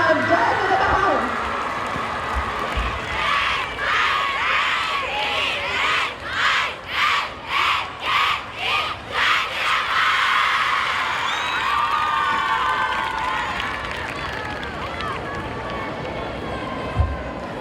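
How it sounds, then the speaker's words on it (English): Crowd at a girls' school annual sports meet clapping and cheering for an outstanding athlete, a dense wash of applause with rhythmic clapping bursts in the middle and shouts mixed in, while a voice announces over it. "Round of applause for Fonseca of Vidyalaya House."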